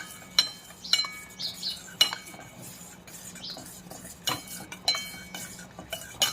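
A spoon stirs custard powder into hot milk in a pan, scraping and clinking against the metal in repeated close strokes, with a faint low simmer underneath.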